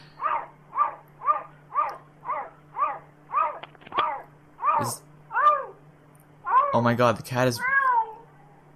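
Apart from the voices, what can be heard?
cat making a dog-like noise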